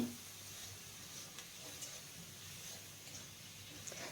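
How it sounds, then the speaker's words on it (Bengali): Ginger and green chili paste frying in a pan, a soft, steady sizzle with faint ticks of stirring, quiet and continuous throughout with no talking. "এখন এই আদা আর কাঁচা লঙ্কাটাকে একটু ভেজে নিতে হবে"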